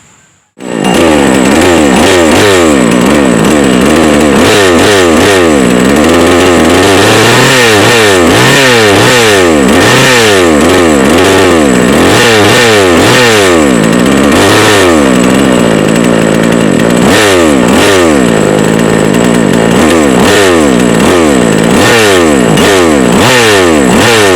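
A mini chainsaw, freshly cleaned and reassembled, starts up and runs loudly and close by for the whole stretch, its engine revving up and down in repeated surges with a rough two-stroke buzz, and no voices.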